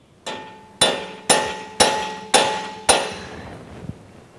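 Six sharp, evenly spaced taps of a ball peen hammer on a sheet metal marking gauge clamped in a bench vise, each strike ringing briefly and metallically before fading, followed by a fainter final tap.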